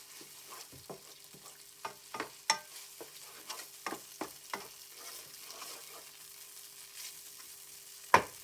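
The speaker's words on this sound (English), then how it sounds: "that's sizzling away nicely now" Onions sizzle steadily in a hot pan, with repeated scraping clicks and knocks as they are stirred, close up and with no talking.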